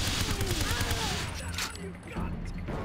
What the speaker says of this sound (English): let's uh, pull out the AK with the 13 bullets